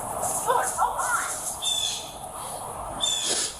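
Birds squawk outdoors, several loud, harsh calls coming in short bursts near the listener over a faint background hiss.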